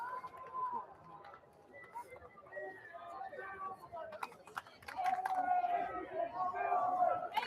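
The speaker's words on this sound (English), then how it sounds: "Another Ian Silver chant going up from the crowd." Spectators at a Richmond versus Davidson college ultimate frisbee game chant a player's name, the rhythmic chant swelling louder over the last seconds, with a commentator talking over it.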